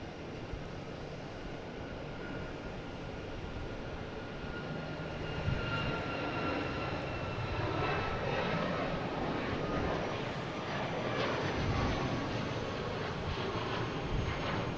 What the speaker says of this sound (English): next taking off is the Southwest heading to St. Louis, 737 MAX 8